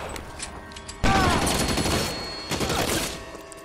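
Video game shootout in LA Noire, a sudden loud burst of rapid gunfire followed by further volleys of shots amid mechanical game sounds, with a voice faintly mixed in.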